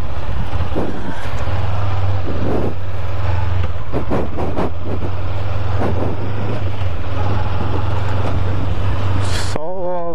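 A 2021 Honda CB 500X motorcycle rides along, its engine droning with a steady low hum and rushing wind noise, while someone talks over it.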